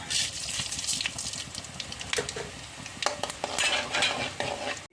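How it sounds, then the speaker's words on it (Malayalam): Coriander seeds dry-roast in a pan for a roasted masala curry paste, stirred continuously so they rustle and scrape close by in quick, uneven bursts over a faint sizzle. "ഇതിലേക്ക് അരപ്പിനുള്ള സാധനങ്ങൾ നമുക്ക് വറുത്തെടുക്കാം ആദ്യം മല്ലി ഇടാം"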